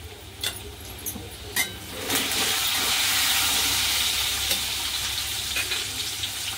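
Garlic frying in hot oil with asafoetida and curry leaves, a steady loud sizzle that swells after a few sharp clinks and carries on unbroken.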